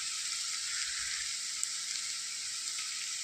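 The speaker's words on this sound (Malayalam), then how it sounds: "തക്കാളിയും കൂടി ഇതിലേക്ക് ചേർത്ത് കൊടുക്കുക." Tomatoes fry with onions and green chillies in a pan for egg mappas, giving off a steady, even sizzling hiss with a few faint stirring bumps underneath.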